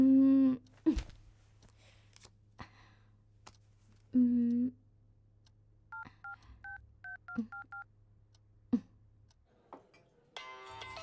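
A telephone rings in a tense movie scene with a short run of quick, paired electronic tones, moderately loud, set between sharp dramatic music hits and quiet gaps.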